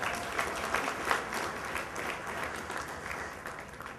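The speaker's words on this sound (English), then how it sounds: "And let's give a big round of applause for Dr. Frank Forka for putting this together." Steady audience applause at a gala dinner, a dense continuous wash of many hands clapping across the room, moderately loud and sustained throughout with no speech on top.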